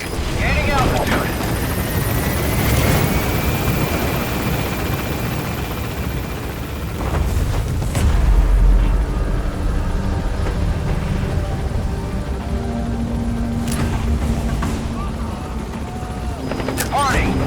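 A helicopter in the Metal Gear Solid 5 video game lifting off and climbing, its rotor roar steady and loud throughout, with scattered distant gunfire, a deep thump and a voice speaking over it.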